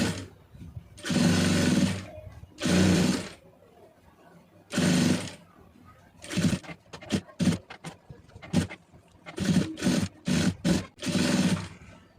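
A sewing machine sews long, large stitches through cloth in a tailoring workshop, starting with a few sustained runs and then breaking into many short, choppy bursts, loud and close with no voices.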